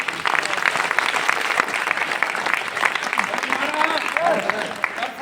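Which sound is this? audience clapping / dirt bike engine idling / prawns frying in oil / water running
audience clapping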